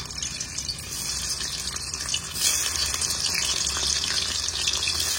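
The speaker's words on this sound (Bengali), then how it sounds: "আমি পনিরটাকে ভেজে নেব।" Cubes of paneer fry in oil in a kadhai, making a dense, continuous hiss that grows slightly louder partway through, with no talking.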